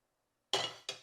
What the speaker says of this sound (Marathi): आता कढई ठेवली आहे त्यामध्ये आपण घेऊयात साधारण एक दोन चमचे तूप कढईला लावून घेऊ